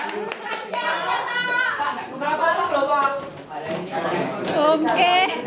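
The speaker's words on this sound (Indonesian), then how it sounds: "Oke, kasih tepuk" A group claps hands in quick bursts while children's voices and chatter keep running over the clapping, with people talking and laughing throughout.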